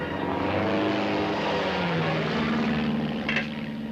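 A propeller airplane engine drones in flight in an old western movie scene, a continuous loud roar with a wavering pitch that shifts slightly, heard alone without voices.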